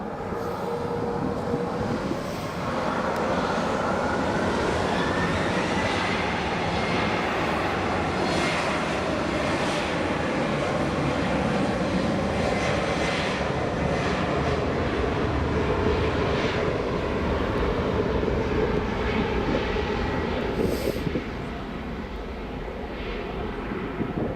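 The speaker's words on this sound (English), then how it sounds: "here goes the KLM to Amsterdam" A KLM airliner takes off from Leeds Bradford Airport bound for Amsterdam, its engines building into a loud, continuous roaring rush that holds steady for over twenty seconds, heard from a moderate distance outdoors.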